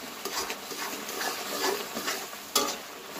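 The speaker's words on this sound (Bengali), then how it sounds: "মশলাটা এবার ভালোভাবে টমেটোর সঙ্গে কষিয়ে নেব।" Ginger-garlic paste and spices fry with tomatoes in a hot pan while a spatula stirs them, giving a continuous close sizzle with scraping strokes and one sharp knock near the end.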